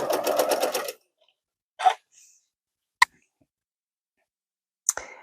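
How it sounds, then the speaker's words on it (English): A sewing machine stitching through a two-color faux flange quilt binding, a short rapid run of needle strokes followed by a few isolated clicks and thumps separated by silence. "this is going to just take me a few minutes to sew through it"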